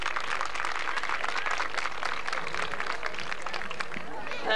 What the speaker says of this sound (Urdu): تو ان کے لیے ایک دفعہ پھر بھرپور انداز میں تالیاں ہونی چاہیے